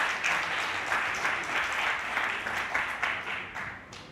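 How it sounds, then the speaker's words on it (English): A conference audience gives sustained applause for a sponsor speaker at an African One Health and biosecurity conference, a dense, steady wash of many hands clapping at moderate loudness throughout. "Please give her a round of applause"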